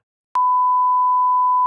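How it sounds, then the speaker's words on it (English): A single steady censor bleep sounds as a pure, loud tone, held for over a second alone, with no voices around it. "say it and we'll beep it"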